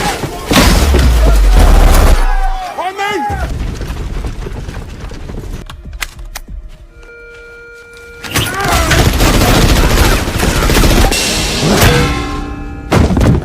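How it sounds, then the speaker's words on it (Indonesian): Film gunfire as CIA agents shoot blindly, bursts of booming, thudding shots at the start and again later, mixed with dramatic music and sound effects. "dan menembakinya secara membabi buta."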